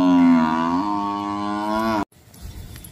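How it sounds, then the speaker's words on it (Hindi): A Murrah buffalo from Haryana, kept on a farm in Varanasi, lets out one long, loud, close moo lasting about two seconds. Quiet farmyard background follows. "एक और भैंस को दिखाया जा रहा है, ये देखिए हरियाणा से आई है ये"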